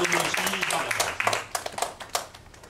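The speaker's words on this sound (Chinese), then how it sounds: "我们再次用这个热烈的跟感激的掌声" Scattered applause at a social enterprise workshop thanks a visiting chairman. Uneven clapping bursts fade out over a few seconds, mixed with a person talking.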